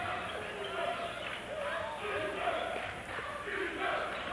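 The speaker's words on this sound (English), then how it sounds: "Crowd starting out early with that chant of defense" A high school basketball crowd in a packed gym chants defense in a steady rhythmic cadence, a dense wash of voices rising and falling early in the game.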